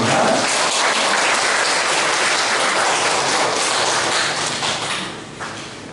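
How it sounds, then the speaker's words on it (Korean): A church congregation at a 2025 Easter joint service gives loud, dense welcoming applause to a pastor, with many hands clapping close by before the sound tapers off near the end. "우리 박수로 한번 환영의 박수로 모시겠습니다."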